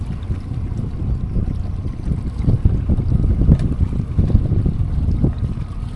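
Wind buffeting a boat travelling through canals on a hot, breezy day, a steady low rumble of gusts and microphone wind noise with some water and hull sound, continuous and fairly loud, with no talking.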